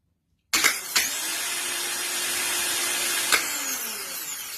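A car starter motor spinning when a screwdriver bridges its positive terminal, starting abruptly with a sharp contact click, then a steady loud whirring that runs alone to the end.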